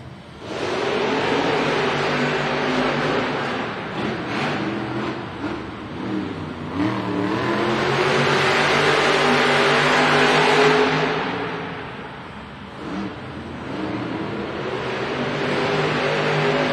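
Monster trucks Thor and Toro Loco racing at a Monster Jam arena event in Cardiff, engines roaring loud and close, rising and falling as they rev and accelerate, with crowd noise blending into the roar.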